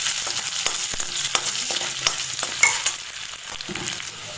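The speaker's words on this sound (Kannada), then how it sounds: "ಬೆಳ್ಳುಳ್ಳಿ ಫ್ರೈ ಆಗಿ ಬರ್ತದೆ" Garlic fries in ghee in a pan for a home-style chicken ghee roast, a bright crackling sizzle with quick spatula taps and scrapes, fairly loud and close, no voices.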